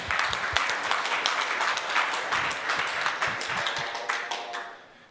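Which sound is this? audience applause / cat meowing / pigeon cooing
audience applause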